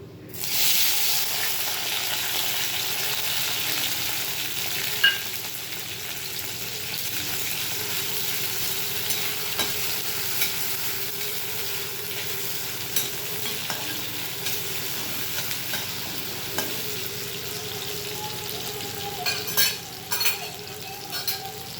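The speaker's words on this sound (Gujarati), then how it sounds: "હવે એમાં લીલા મરચાં, એક ટામેટું અને આખો લીલો લીમડો એનો વઘાર કરીશ." Green chillies, tomato and whole curry leaves are tempered in hot oil with spluttered cumin and mustard seeds, giving a long, steady close sizzle with occasional utensil clicks and scrapes against the pan and no speech.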